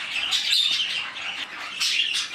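Pet birds in an indoor bird room chirp and tweet continuously, a busy layered chorus of high calls close by with brief louder bursts and no talking.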